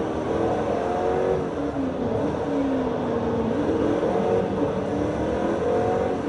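A car engine in Forza Motorsport 3 revs and drones continuously, its pitch sliding up and down through gear changes, loud and steady with crowd-like background noise on a show floor.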